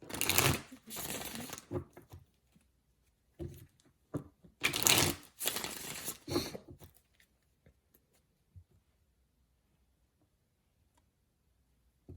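Quick bursts of tarot cards being riffled and shuffled, a few rounds separated by pauses, close and fairly quiet, then silence.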